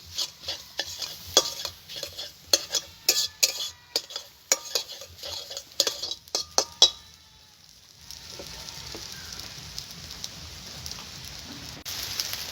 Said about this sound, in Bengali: যে ডিমটাকে আমি ফেটিয়ে রেখেছিলাম সেই ডিমটাকে আমি ভেজে নিচ্ছি।